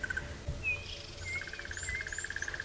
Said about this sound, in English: You can hear the birds, they're very chirpy.